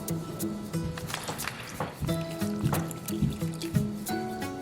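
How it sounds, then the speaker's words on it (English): Water pours into a mixing bowl holding three eggs for cake batter, a close, gurgling trickle with splashy bubbling that rises and falls over a few seconds, with faint talk in the background. "Now you put the water into the bowl."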